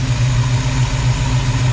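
A car engine that is not yet fully warm is held at slightly raised revs, making a steady, close mechanical drone with no talking.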